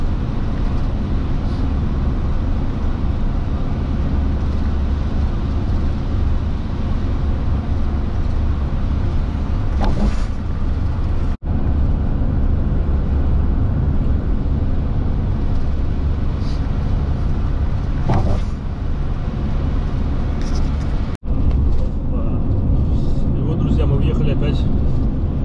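A motorhome rolling across a bridge at night in Sweden, a steady, loud low road and engine rumble throughout with a couple of brief thumps from joints in the deck, and someone talking over it.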